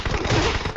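Gunfire in PUBG Mobile on the Erangel map: a dense, continuous burst of rapid shots filling the whole moment, loud and close.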